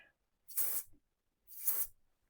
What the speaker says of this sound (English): So let's spray it on all over.